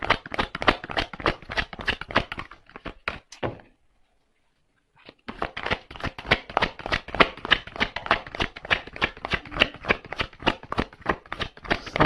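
Tarot cards are shuffled by hand in a fast, crisp riffling rhythm, close and clear, with a brief pause of silence in the middle before the shuffling resumes just as briskly.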